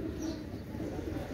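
Pakistani pigeons coo softly in a low, rolling murmur that carries on without a break, faint and close by.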